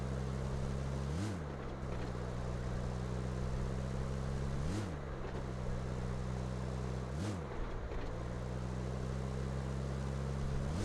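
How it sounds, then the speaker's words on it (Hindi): Battered old car driven in the BGMI mobile battle royale game, a steady droning engine with a few gear-shift pitch swoops, loud and continuous with no talking. "इसी खटारा गाड़ी मिली है।"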